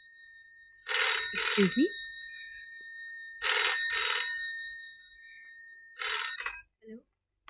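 An old-style telephone bell rings in three loud, sustained bursts in an office setting, with a brief spoken line from a man between rings.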